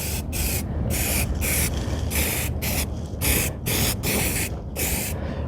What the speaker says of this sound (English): I'm just gonna spray this, what we just exposed, with some weld-through primer